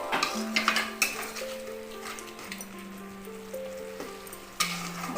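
A spoon stirs coriander powder into a Puri-style fish and prawn mahura curry in a pot, making close clinks and scrapes against the metal over a light sizzle, with steady tones of background music.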